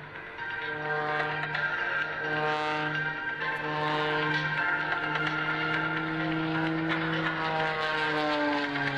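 A propeller aerobatic plane at the 2003 Dayton airshow drones steadily as its engine pitch rises and falls through climbs and passes, loud and continuous with no voices.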